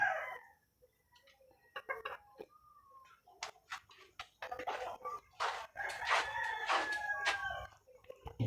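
Chickens cluck and squawk in irregular bursts, with a rooster-like call rising among them, fairly close.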